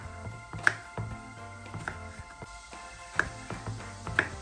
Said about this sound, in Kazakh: Баялдыны осылай ірі бөліктерге бөлеміз.